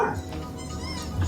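Dog making brief whimpering, barking sounds, close and short, over a low background rumble.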